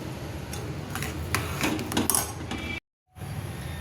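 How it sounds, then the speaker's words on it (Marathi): A spoon clinks and scrapes against a pan while stirring sugar into hot milk over a low flame, a busy run of metallic taps and scrapes with a brief dropout of silence near the end. "साखर आपण मिक्स करून घेऊया."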